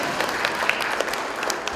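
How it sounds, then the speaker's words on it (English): Audience at a school event clapping, a steady wash of applause throughout with a few sharper individual claps standing out, moderately close. "You can clap."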